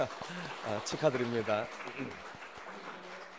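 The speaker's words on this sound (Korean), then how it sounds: "우리 박수로 축하드립니다" A church congregation claps in congratulation during a Sunday service honoring a couple's wedding. The applause is a soft, steady patter running beneath a voice, which stays louder throughout.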